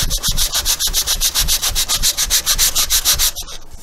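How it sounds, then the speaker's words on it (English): A T-bar sander rasps back and forth over a balsa vertical stabilizer for a model airplane, in steady rapid strokes about six per second, loud and close with no talk. "the rest I'm going to leave up to the sanding block or the T-bar sander"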